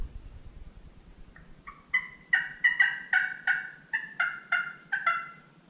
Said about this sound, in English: A little hit on your slate call,